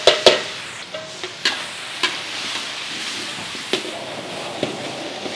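Fresh garlic hitting hot oil in a wok for a Chinese-style broccoli beef stir-fry, a continuous sizzle with sharp spatula clanks and stirring scrapes at irregular intervals, close up.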